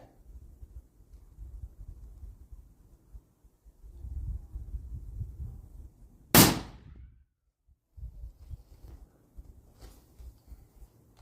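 A single sharp rifle shot from a 6.8 Western Browning X-Bolt 2 at a shooting range, one loud crack midway through, set against quiet rustling and handling noise before and after.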